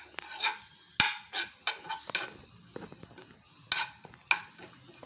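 Grated coconut is stirred as it roasts in a pan, with intermittent scrapes and taps of the spoon against the metal and quiet rustling between strokes, close and fairly soft.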